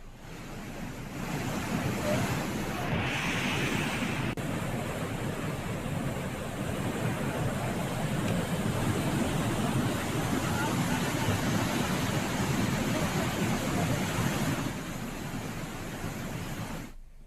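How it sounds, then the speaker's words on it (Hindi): The swollen Ganga rushing at Gangotri, a loud, continuous broadband roar of fast water that holds steady throughout, with a faint voice briefly audible early on. "जलस्तर बढ़ने से गंगा उफान में बह रही है"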